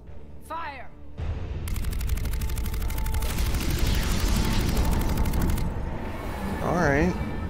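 Heavy sustained weapons fire in the Mass Effect 3 video game, a dense rattling barrage with rumbling blasts lasting several seconds, with swooping electronic effects before and after.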